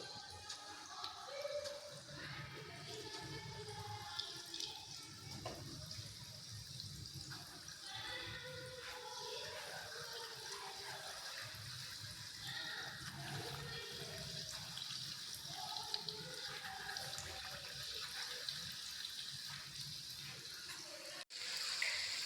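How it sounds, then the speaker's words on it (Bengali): Palm fruit fritters fry in a pan of hot oil over medium heat, giving a continuous, even crackling sizzle throughout. "এখন তালের বড়াগুলোকে ভেজে নেব।"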